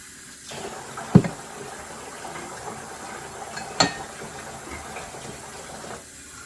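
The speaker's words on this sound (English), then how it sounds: "Now I'm filling up water bottles for the pool." Water runs from a tap into water bottles in a low, continuous trickle, with two sharp clunks of a bottle or cap against a surface partway through.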